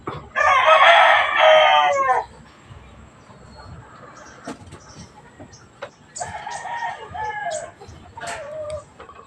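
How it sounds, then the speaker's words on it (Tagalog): A Rhode Island Red hen in a rainy, muddy farmyard lets out a loud, drawn-out call up close, then a few scattered short clucks and squawks follow after a pause. "Malapit na mangitlog yan si Rhode Island Red na Mintana."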